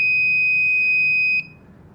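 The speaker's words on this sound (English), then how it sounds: "if it boots successfully, it should beep and all the LEDs light up for 3 seconds." A portable ingest station gives a single steady high-pitched electronic beep on successful boot, lasting just over a second before stopping, then only faint room noise.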